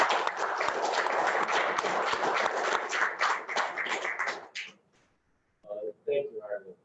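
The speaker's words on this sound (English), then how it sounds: "I'll just ask everyone to join me in a round of applause for" A round of applause at a city council meeting, a dense steady clapping from a room of people lasting about four seconds, then fading before a person speaks.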